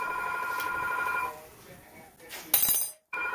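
A telephone rings in a home kitchen while pork chops are being cooked in chicken broth, a bright repeating electronic trill for about a second, then a sharp clink and a short burst of noise before a brief silence.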